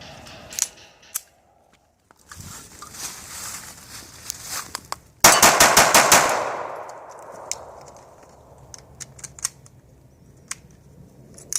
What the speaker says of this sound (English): Ruger LCP, rapid fire.